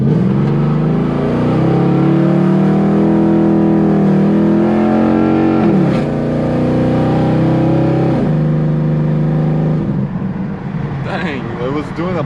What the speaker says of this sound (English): Dang, it was doing a burnout to like 40 miles an hour.